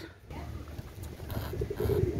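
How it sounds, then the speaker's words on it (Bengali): A Royal Teddy pigeon of imported Pakistani bloodline gives soft, low, throaty coos, a short rolling series toward the end, fairly quiet over a faint room background with no speech. "এটা হচ্ছে রয়্যাল টেডি কবুতর"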